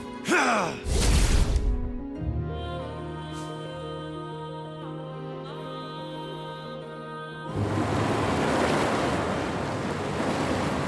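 Water drains away in the video game Wuthering Waves, a steady rushing wash that swells louder after a low tonal hum with a few chimes, rising into a broad, close surge near the end.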